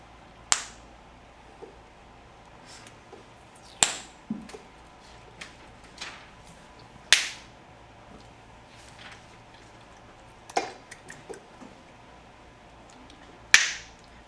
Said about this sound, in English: stop popping your gum for the last time.